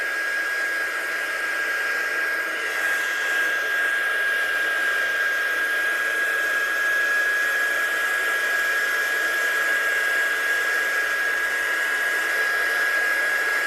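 A heat gun blows with a steady, close airy rush and a high-pitched whine, running continuously without speech; only slight changes in loudness appear.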